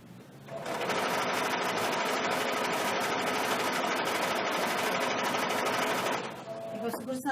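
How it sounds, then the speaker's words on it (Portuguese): Sewing machine running steadily for about six seconds as it stitches fabric for a dog bathroom set, with a continuous buzzing whir that starts and stops cleanly and the fabric not feeding properly. "A máquina não tá puxando o tecido."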